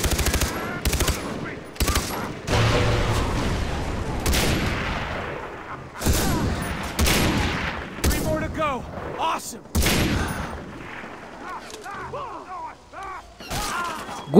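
Rapid bursts of automatic gunfire in a video game, loud and dense with repeated volleys, sharp cracks and mechanical clatter, filling the stretch with only brief gaps between strings of shots, a voice faintly present underneath.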